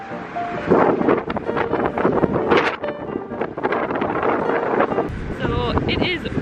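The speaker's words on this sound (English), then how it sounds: "So it is really windy out here" Strong gusty wind buffets the microphone throughout, a rough roar with a voice talking over it.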